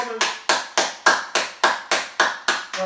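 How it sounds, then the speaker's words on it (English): Ten sharp hand claps in a steady rhythm during a healing yoga session, close and loud, with a faint voice at the very start. "Clap them together again 10 times."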